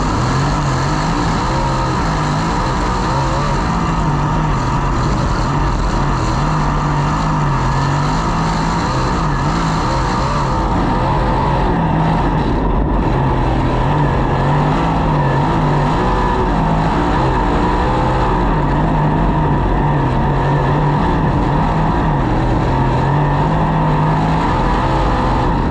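National USAC sprint cars in a heat race, engines roaring loud and steady throughout with continuous high-revving drone and shifting pitch as the pack runs close together.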